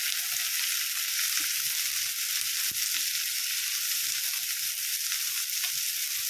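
Chopped onions fry in a pan for jowar poha, a constant bright hiss of oil running evenly throughout with a single faint knock partway, no voices.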